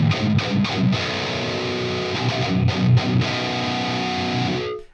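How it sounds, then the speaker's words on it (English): A heavily distorted 7-string John Petrucci Arctic Dream Majesty guitar run through the Fortin Nameless Suite amp plugin plays chugging, palm-muted riffs with sustained chords, loud and dense, before ringing out and cutting off at the end. "I'm playing on my John Petrucci Arctic Dream Majesty 7-string guitar"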